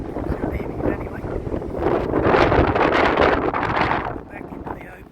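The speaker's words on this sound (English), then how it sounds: "Beach accesses, a bit breezy anyway." Wind blowing at a beach access on the Slade Point reserve: loud gusty rumble buffeting the microphone, building to a strong blast midway then easing, with a person talking.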